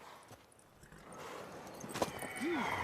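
Horse hooves clip-clop in the video game Witcher 3, faint and quiet at first, then growing louder, with a short whinny near the end.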